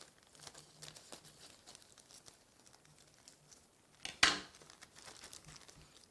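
A knife cuts open a plastic food pouch at a campsite, with soft crinkles followed by one sharp, loud tearing burst partway through, then quieter rustling.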